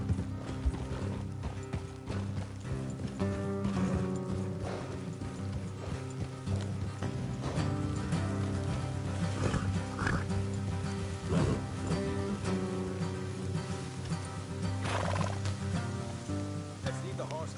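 Horses in Red Dead Redemption 2 clip-clop along a road at a steady trot, hoofbeats running continuously beneath a dense layer of game music and ambience, with no clear neigh standing out.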